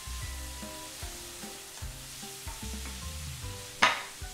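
Chopped onion and ripe red tomatoes sautéing in a pan, a faint steady sizzle under low hum, with one sharp scrape of stirring near the end.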